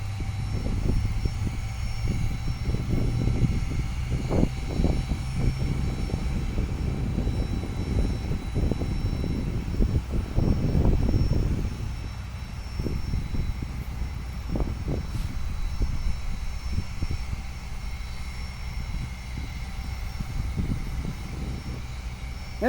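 Airplane on the runway at Richmond International Airport, its engines a steady distant roar that swells briefly midway and stays broad and continuous throughout, with no voices.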